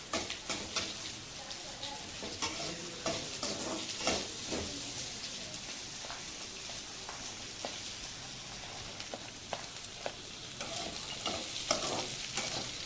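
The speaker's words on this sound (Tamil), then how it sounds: "இப்போ பீன்ஸும் கேரட்டும் போடும் பொரியல். கொஞ்சம் கொஞ்சமாக போட்டு கிண்டிக்குவோம்." Carrots and beans frying with onion in a pan while being stirred, with a steady soft sizzle and scraping stirs, fairly quiet and close, with someone speaking over it.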